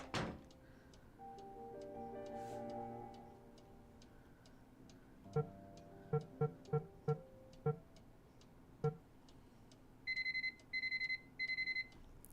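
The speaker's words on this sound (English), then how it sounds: "Different alarm." Inside a video game, a clock ticks steadily, then a few sharp knocks sound, followed by three rapid beeping alarm bursts near the end, all fairly faint.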